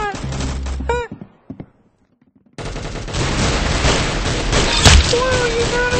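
Gunfire in the Roblox game Arsenal: a short burst of shots, then a brief near-silence, then a dense, loud barrage of rapid firing with a heavy thump near the end.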